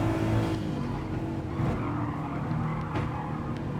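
Subaru WRX engine in Gran Turismo Sport droning steadily and close, with a faint tyre skid under it, no talk.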